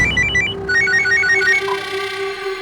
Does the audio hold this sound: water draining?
no